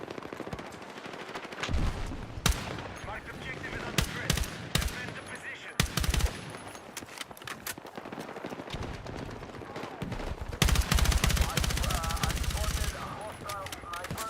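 Rapid bursts and single shots of gunfire from Battlefield 6 gameplay, loud and dense, repeating throughout with brief gaps, with faint talk underneath.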